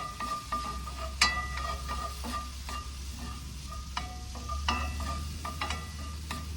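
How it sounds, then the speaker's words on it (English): Bacon rendering in a pan for huevos rancheros, a steady close sizzle broken by scattered scraping, stirring clinks, with no voices. "I'm gonna let this bacon render down a little bit."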